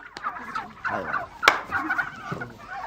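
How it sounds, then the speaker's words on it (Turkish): A turkey gobbles in repeated rapid warbling bursts, fairly close and alone, with one sharp loud peak midway through the short stretch of calls. "Yaşasın yılbaşı hindisi."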